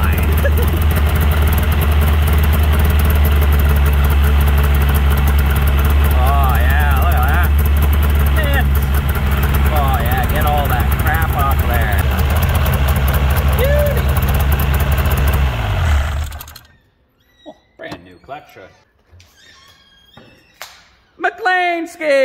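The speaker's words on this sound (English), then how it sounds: "don't start your snowmobile without a belt on it." A Yamaha V-max 700 snowmobile engine idling with no belt fitted, a loud, close, steady low rumble that cuts off abruptly near the end, followed by scattered voices and speech.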